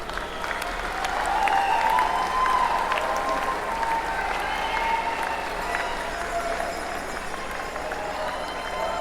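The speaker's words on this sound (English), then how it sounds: "give them a standing ovation and say thank you" A large graduation crowd gives a standing ovation, a dense wash of continuous clapping with some cheering mixed in, sustained throughout.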